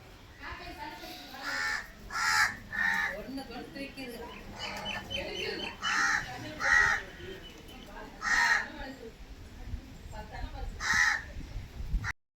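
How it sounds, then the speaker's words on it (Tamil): Crows caw in repeated bursts at food set out for them during a Pongal offering, several loud calls rising over steady background chatter and outdoor noise, with people talking nearby. "மக்களே, காக்காவுக்கு சாப்பாடு வச்சாச்சு."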